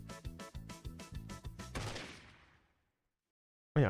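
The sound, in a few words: gunshot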